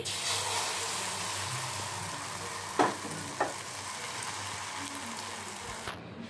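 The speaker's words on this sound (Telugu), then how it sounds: "తర్వాత మనం ఇప్పుడు ఆమ్లెట్ వేసుకోవాలి." An omelette frying in hot oil in a pan, a steady close sizzle throughout with two brief clinks partway through, and no talking.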